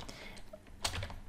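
Faint keys tap on a computer keyboard in a quiet room, a few scattered strokes and then a slightly louder cluster near the end, with no speech over them.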